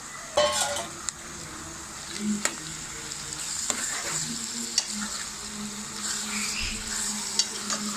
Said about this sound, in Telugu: ఇప్పుడు మనం ఇందాక మ్యారినేట్ చేసి పెట్టుకున్న చికెన్ని కూడా యాడ్ చేసుకుందాము